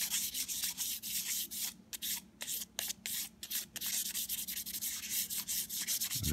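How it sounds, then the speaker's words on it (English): Rhythmic sanding strokes rub back and forth across a wooden Smith & Wesson revolver stock panel, a close, dry scratching with short pauses between passes. "I did a little sanding, a little more sanding on this panel"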